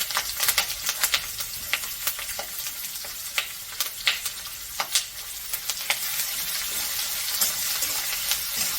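Chopped onion and curry leaves sizzle steadily in a hot pan for upma, a dense close crackle with sharp pops and occasional stirring clicks, and no voices.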